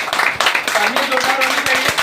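An audience at a DXN product meeting claps in scattered bursts of sharp hand slaps while a voice talks over it.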